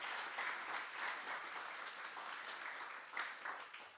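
An audience gives a round of applause at an industry breakfast event, a faint, steady patter of many hands clapping that swells slightly near the end.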